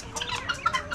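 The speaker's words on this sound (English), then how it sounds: "Look at these wet ass birds." Wet backyard chickens cluck in quick, repeated bursts close by before feeding, several short calls overlapping within a second.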